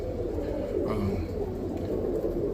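Roller pigeons cooing in a loft, soft low throaty coos repeating under a dense, steady murmur of the flock, close and continuous with no talk.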